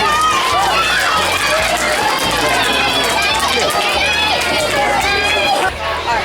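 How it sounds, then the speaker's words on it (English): Applause and cheering for student volunteers at a school science demonstration, a dense, loud wash of clapping and young voices running steadily for several seconds. "Can you guys give my volunteers a round of applause?"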